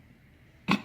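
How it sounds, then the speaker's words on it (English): A single short throat clearing near the end after quiet room tone, close and moderately loud. "Let me clear my throat."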